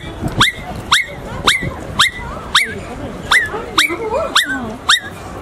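A voice imitates a puppy whimpering after being hit or getting wet: about nine sharp, high yelping cries in a quick uneven series, close and loud, with a few lower whines in between.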